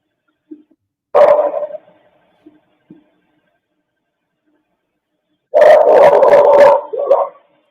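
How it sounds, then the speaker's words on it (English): Two dogs bark in a quiet outdoor night setting: one short burst of barking, then a second, longer, louder run of barks several seconds later, with faint scattered noises between. "See, that back end one was a second dog."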